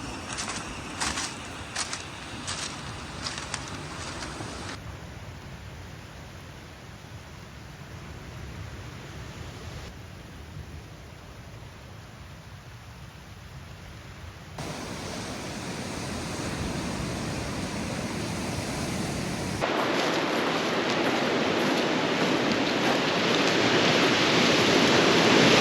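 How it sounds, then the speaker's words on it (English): Rushing water pouring down a massive slide area on the remote Lost Coast of California, a broad steady roar that swells louder toward the end, with no voices. "Water coming down."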